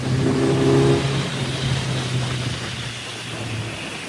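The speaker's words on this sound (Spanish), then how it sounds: "Ahí vemos cómo salimos de curva bien, metemos marcha." A 2026 Kawasaki Z900 naked motorcycle accelerates out of a curve, its engine note steady and loud with a gear change partway through, then drops back slightly. No one talks.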